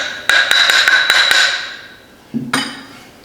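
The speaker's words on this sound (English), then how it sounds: "I don't want to tap it with a hammer," A hammer taps a camshaft into a Farmall Super H tractor engine being restored, five or six quick ringing metallic blows in a row, then a pause and one more hit after a low knock.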